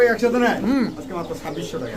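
An Indian fantail pigeon coos close by in a run of soft, rolling, throaty calls that rise and fall in a steady rhythm.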